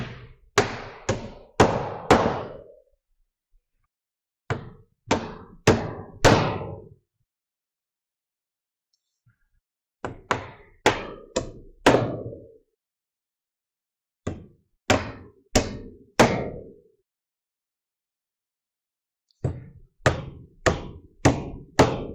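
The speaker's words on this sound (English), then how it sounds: "Now I'll tack it on and put a few nails in it" Hammer driving nails through a roof sheathing sheet, loud close bursts of sharp repeated blows, several strikes per nail, separated by short pauses.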